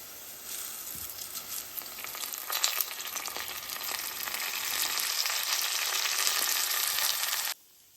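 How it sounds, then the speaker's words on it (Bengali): Washed rice frying with well-browned onions for pulao, a loud, steady hiss and crackle that swells slightly with occasional stirring clatter, then cuts off abruptly near the end. "পেঁয়াজটা অনেকটা ব্রাউন হয়েছে, আমি এখন এটাতে চাল অ্যাড করব।"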